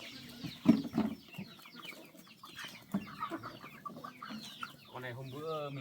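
Hens cluck at intervals in a farmyard on an overcast day, with a louder burst early on and softer clucks scattered throughout; a person talks quietly in the background.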